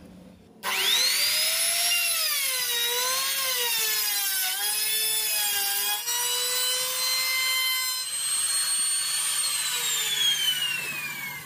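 A Lotus 550 W palm router spins a router bit through wood, giving a loud, close, continuous high-pitched whine whose pitch sags and recovers as the bit bites and eases off, with no talk.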